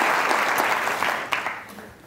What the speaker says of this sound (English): Give him a round of applause as he goes back to sleep.